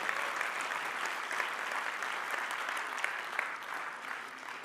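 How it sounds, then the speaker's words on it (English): Steady, even applause from a tech conference audience, many hands clapping together at moderate distance for several seconds without pause. "now you can clap"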